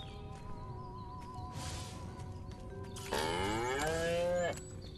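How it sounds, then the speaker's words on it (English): A cow in the video game Destroy All Humans! lets out a single drawn-out moo of over a second, loud and close above quiet game ambience. "Again with the moo?"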